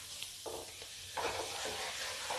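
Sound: stirring asafoetida and turmeric in hot oil

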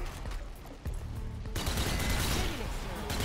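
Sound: zombie shooting a gun in video game Zombie Army 4

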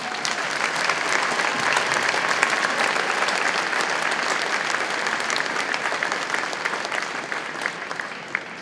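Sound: applause at a high school band concert

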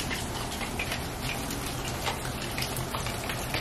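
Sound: rain falling in Texas

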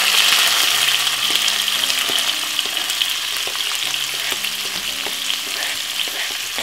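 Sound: white onion and tomato frying in vegetable oil

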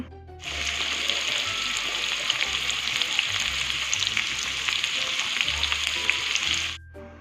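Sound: potato pieces frying in oil

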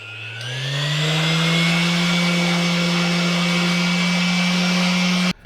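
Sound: Dnipro-M PE-29S random orbital sander running

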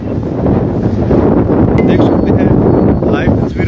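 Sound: strong wind blowing in Dharamshala

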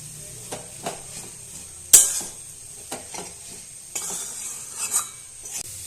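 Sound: stirring fried soybean momo filling in a pan

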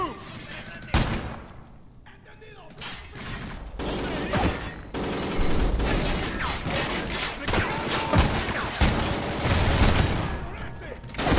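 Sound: gunfire in a video game

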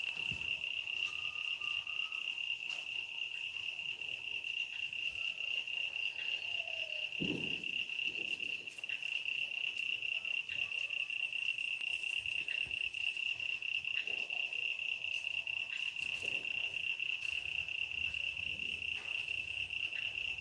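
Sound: frogs croaking

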